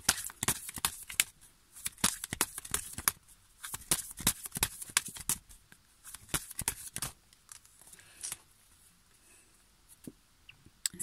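Tarot cards are shuffled and drawn by hand, a close, quiet run of quick papery riffles and soft slaps in irregular bursts, with no talking.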